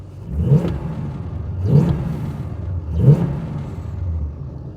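A big 350 V8 engine in a 1970 Chevrolet Caprice revs three times in a regular rhythm, each rising roar settling back to a rough, rumbling idle between bursts.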